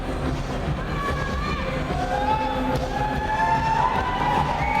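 A crowd of about 900 to 1,000 spectators cheers at an indoor bouldering competition, a steady, dense roar of voices and whoops over a commentator's speech.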